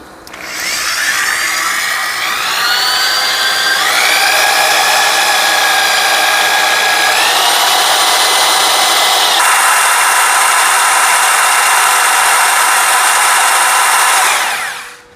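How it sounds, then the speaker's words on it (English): A drill spins the oil pump drive shaft to prime a 1966 Ford Galaxie's R-code 427 engine after five years of sitting, a loud steady whine that steps up in pitch a few times and runs continuously before stopping. "Now I'm just going to turn it counterclockwise and listen for a draw down on the drill."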